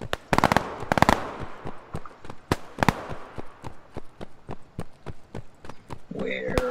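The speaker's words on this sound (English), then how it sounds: "So, I mean, it's an old rifle." Old rifle gunshots in a World War shooter video game, a quick burst of sharp cracks followed by a steady run of evenly spaced single shots, loud and close.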